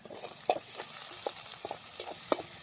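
Browned onions fry in a pan with a light sizzle, cut by several short scraping strokes as they are mixed, close and without talking.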